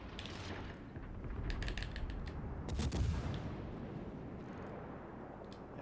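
Naval gunfire in World of Warships Legends, a dense, rumbling stretch of cannon shots with sharp cracking volleys in the middle, heard alone and fairly loud without voices.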